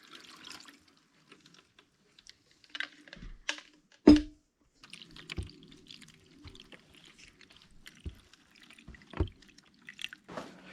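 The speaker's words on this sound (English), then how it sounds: "The last step in the process is watering the plants." Freshly planted seed trays are watered indoors, giving quiet, scattered drips and small splashes. One louder splash stands out among irregular trickling taps across the stretch.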